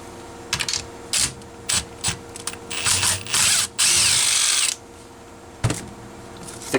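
Socket wrench loosening screws on a McCulloch Mini Mac 25 chainsaw under repair, heard as close, short bursts of ratcheting and metallic clicking separated by pauses, with one longer grinding stretch near the middle.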